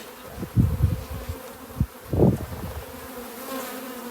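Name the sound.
honey bees buzzing at hive entrance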